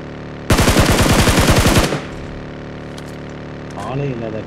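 Rapid automatic gunfire in the mobile battle-royale game BGMI (PUBG Mobile) on the Livik map, a loud sustained burst of about a dozen and a half shots lasting over a second, then quieter game ambience with a brief tonal effect.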